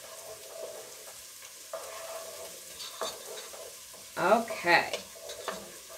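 Garlic and a spoonful of spices stirred in a pot while frying, a soft sizzle broken by several louder scraping stirs near the end, with a short spoken word in between.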